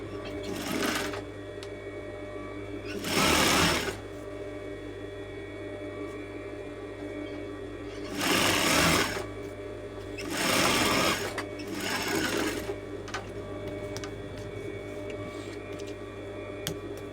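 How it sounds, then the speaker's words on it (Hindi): A sewing machine stitches a coat collar in several short bursts of whirring separated by pauses, over a steady mains hum. "इसको इस तरह बैक पे फोल्ड करके तो यहाँ पे सीधी सिलाई लगाएंगे"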